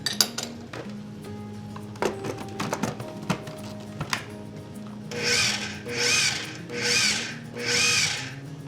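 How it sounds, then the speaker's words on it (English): A food processor pulses flour, salt and cheddar cheese for tourtière pastry, giving four loud, even bursts of whirring, each about a second long, that follow a few seconds of quiet handling clatter. "This goes into the food processor with the flour, and we're going to pulse it around until it's nice and fine"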